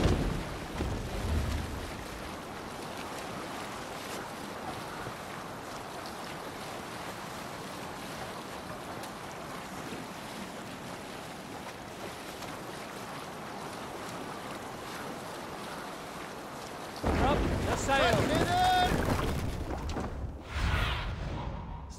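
A Viking longship sails the sea in Assassin's Creed Valhalla: steady rushing wind and water wash against the hull, then a louder surge of waves and wind near the end.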